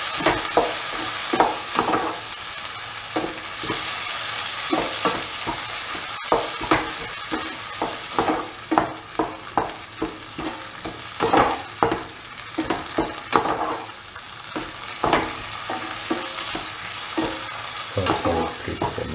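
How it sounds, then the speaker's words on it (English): Matar (green peas) sautéed and stirred in a pan with minced mutton, with repeated scraping strokes of a spoon over a steady sizzle, close and clear with no talking. "Saute and mix the ingredients with the sauteed matar."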